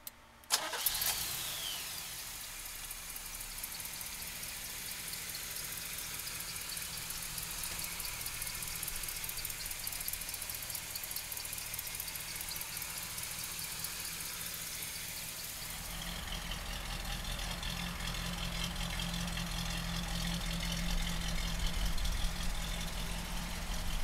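The small-block V8 of a 1973 Chevrolet Camaro cranks and fires, then settles into a steady, rumbling idle that grows fuller and deeper partway through, close and continuous with no talk.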